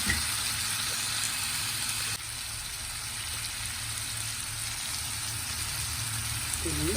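Boneless chicken sizzles in ghee over a medium flame, a constant broad hiss that dips slightly partway through and then carries on, with faint sounds of handling in the pan.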